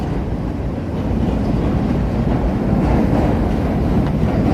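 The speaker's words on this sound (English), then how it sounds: "We got the purple line heading north, and it looks like a brown line heading south across the Wells Street Bridge here." Chicago L elevated trains on the purple and brown lines crossing the Wells Street Bridge, a loud continuous rumble and rattle of steel wheels and cars, steady throughout with wind buffeting and no talk.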